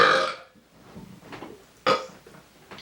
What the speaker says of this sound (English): I'm gonna burp.